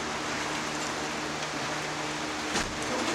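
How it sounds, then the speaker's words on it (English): Steady rain hisses evenly across the whole stretch, a dense wash of patter with a faint low hum underneath and one brief louder burst near the end. "It's raining now."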